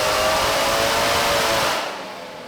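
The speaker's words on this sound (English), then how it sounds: "Alrighty, we just finished that dyno pull." A GM LT4 V8 roars at full load on a dyno, a loud steady wide-open drone that drops off sharply near the end as the pull finishes.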